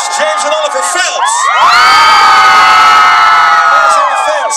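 Large crowd of fans at a celebrity appearance in Amsterdam bursting into loud, high-pitched screaming and cheering that swells and holds for several seconds after an announcer's voice.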